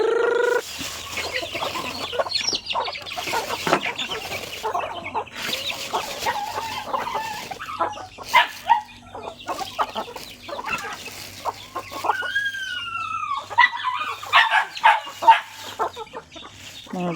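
Chickens cluck and squawk around a rural farmyard at feeding time, with many short, irregular calls near and far and occasional louder bursts, with only brief talk.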